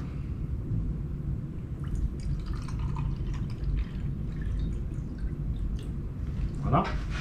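Water pours into the boiler of a Neapolitan coffee pot, a soft trickle rising in pitch as the vessel fills toward the end, alongside faint drips and background talk.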